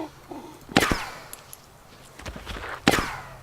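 Gunfire in the DayZ video game: a few sharp, loud shots with ringing tails, separated by quieter stretches, no one speaking over them.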